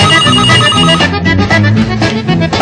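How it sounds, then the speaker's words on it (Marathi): A phone ringtone plays loudly and continuously, a repeating melodic tone pattern with no voices over it. "मी प्रकाशला फोन करतो"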